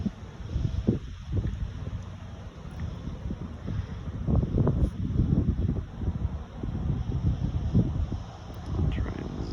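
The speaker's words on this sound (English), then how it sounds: "it's a little bit windy" Gusty wind buffets an outdoor microphone at an evening astronomy outing, a steady low rumble with louder surges throughout and no talking.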